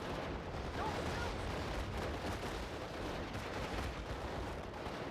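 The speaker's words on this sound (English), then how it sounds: "Off map artillery!" Off-map artillery in Steel Division: Normandy 44, 82nd Airborne missions, pounding the battlefield as a continuous dense rumble of distant shellfire and bursts, steady throughout with no clear break.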